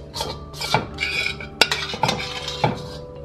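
A metal spoon scoops and scrapes through soup in a pot to glaze Filipino longanisa, with several close, distinct clinks and scrapes against the pot and wet sloshing between them.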